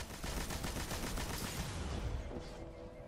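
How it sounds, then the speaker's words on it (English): Rapid machine gun fire in a video game, a steady, fast stream of loud cracking shots that runs unbroken for about three seconds and then tails off, with no talking. "I'm gonna go ahead and just hit him with the machine gun."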